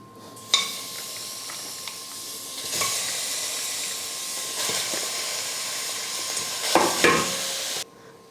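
Half a kilo of cleaned country chicken tumbling into a pressure cooker, a sudden clatter at the start followed by steady sizzling hiss with occasional stirring knocks and a louder rattle near the end.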